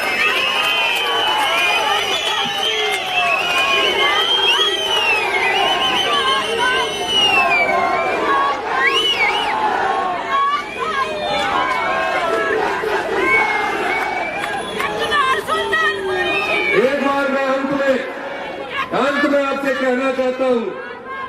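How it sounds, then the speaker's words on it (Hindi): An outdoor political rally crowd at Chaura Maidan in Shimla roars with loud, sustained cheering and shouting voices, rising and falling in waves, with raised chant-like calls near the end. "तो सुल्तानपुरी के लिए जोर से तालियां करिए"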